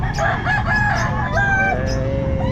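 Roosters crowing at a busy pet market, several overlapping drawn-out crows rising and falling close by over steady crowd noise.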